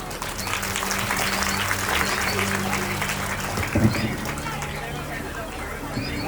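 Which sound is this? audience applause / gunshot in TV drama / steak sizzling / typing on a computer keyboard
audience applause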